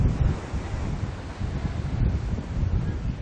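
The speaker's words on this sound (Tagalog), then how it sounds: "mas malakas na ang alon at ang hangin dito sa bahaging ito ng Amaya 5 sa Tanza, Cavite" Steady, gusty wind buffets the microphone with a continuous low roar, and the wash of surf rolls underneath, loud and unbroken throughout, on the coast at Tanza, Cavite.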